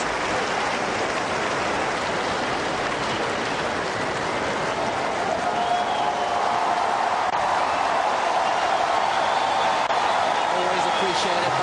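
A tennis crowd applauds in a big stadium at a 2008 Rogers Masters quarterfinal between Andy Murray and Novak Djokovic, a steady, dense wash of clapping that carries through the whole stretch, with a commentator's voice faintly over it.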